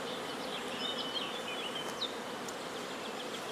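Carpathian honey bees buzz in a steady, close swarm hum, with a few individual bees whining past nearby, and no talking.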